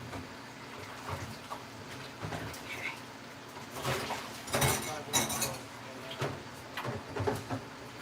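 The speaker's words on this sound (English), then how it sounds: "Wash these bowls up real quick" Bowls being washed in a kitchen sink, with soft clinks of dishware, splashing water and scraping knocks that come in scattered bursts, quiet and close, while people talk now and then.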